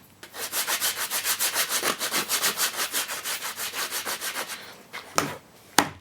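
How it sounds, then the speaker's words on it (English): An 80 grit block sander worked by hand along a radiused laminate countertop bevel edge, giving about twenty rhythmic, even rasping strokes close up, then a couple of sharp knocks as it stops. "we're just going to use our 80 grit block sander"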